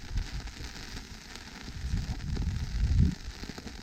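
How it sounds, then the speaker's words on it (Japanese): Heavy rain during an approaching large Typhoon No. 10, a steady dense patter and rush of water on surfaces, loud and continuous, swelling toward the end with a burst of rumbling noise. "すごい雨です。"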